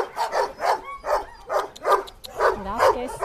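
Dog giving a run of rhythmic short barks and yips mixed with whimpers, close and fairly loud, with no talking over it.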